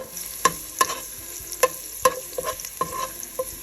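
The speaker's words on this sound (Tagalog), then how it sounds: "hantayin natin hanggat mag-brown yung garlic" Garlic fries in oil until brown with a soft steady sizzle, punctuated by a series of sharp metallic spatula clinks against the pan at irregular intervals, close and clear, without speech.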